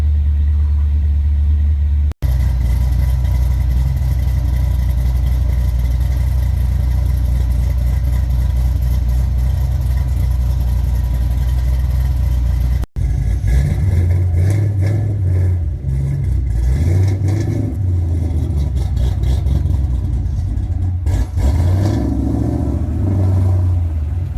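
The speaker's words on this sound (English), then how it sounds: "It's idling a little high." A car with a newly installed engine runs steadily at a high idle, loud and close, then turns rougher and more uneven with low rumbling surges.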